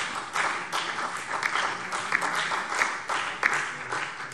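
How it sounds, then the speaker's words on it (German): Sustained applause fills a parliamentary plenary session during a debate on property tax reform, a dense, even wash of many hands clapping with a few sharper swells, steady and moderately loud throughout. "Applaus"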